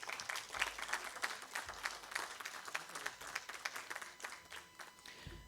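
An audience welcomes an ambassador onto the dais at a conference on global affairs with steady, even clapping, faint and somewhat distant, continuing throughout.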